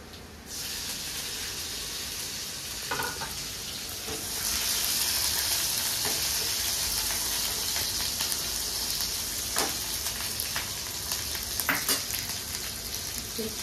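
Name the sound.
green chilies sizzling as added to frying pan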